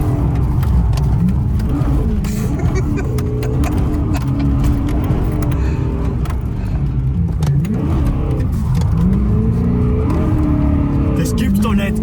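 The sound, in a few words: BMW 1M Coupe with S65 V8 engine revving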